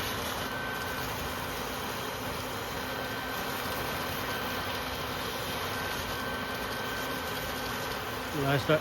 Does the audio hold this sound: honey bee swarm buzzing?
yes